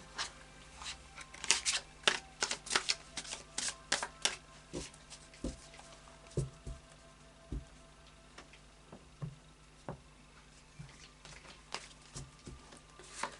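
Tarot cards riffle and snap in quick bursts, then settle into slower, sparse taps and slides as the deck is handled.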